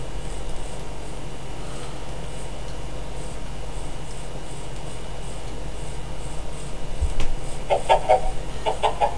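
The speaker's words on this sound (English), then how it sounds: "Chickens, so we can hear chickens." Blocky chickens in a modded Minecraft 1.7.10 world cluck in a few short bursts near the end, over a steady game ambience.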